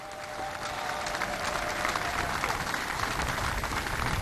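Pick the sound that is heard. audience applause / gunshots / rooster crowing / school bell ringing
audience applause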